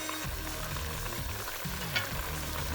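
Prawns simmering in a reduced Jamaican curry gravy, giving a steady close bubbling sizzle with a few soft stirring scrapes, and no voices.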